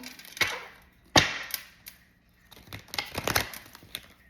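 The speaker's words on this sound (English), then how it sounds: "This is the third shuffle." Tarot cards being shuffled by hand, giving a few sharp riffling bursts with a brief flutter of card slaps near the end, close and moderately loud with no talking.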